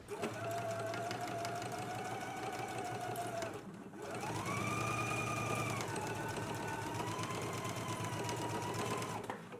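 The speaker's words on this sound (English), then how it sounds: "I'm gonna head to the sewing machine and go ahead and stitch mine in place now." A sewing machine whirs steadily while stitching a jacket lapel and collar, with a rapid mechanical rattle, briefly pausing then running again at a slightly higher pitch.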